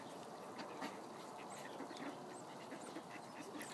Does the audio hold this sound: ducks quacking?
yes